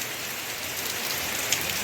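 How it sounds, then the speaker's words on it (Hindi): Heavy torrential monsoon rain pours down in a dense, steady hiss of drops hitting surfaces, continuous and close, with no voices over it. "बस शुरू हो चुका मूसलाधार बारिश।"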